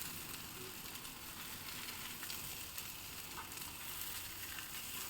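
Black-eyed pea cutlets frying in a pan give a steady, even sizzle that holds at a moderate level throughout, with faint crackles and no voices.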